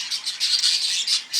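Rapid, bright chattering calls from a yellow face blue opaline cock budgerigar, a series of close, scratchy squawks and chirps coming in quick bursts with no talk.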